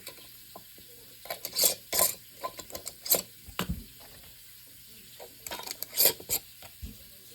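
Glass pickle canning jars getting their metal lids screwed on finger tight, heard as scattered close clinks, scrapes and ratcheting twists in short bursts with quiet gaps between.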